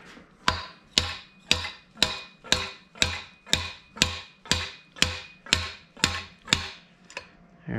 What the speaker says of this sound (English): Slide hammer.